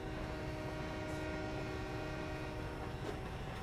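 A train in the Sunset Overdrive video game rumbles along with a steady low mechanical drone and faint tonal hum, continuous and moderately quiet, with no talking.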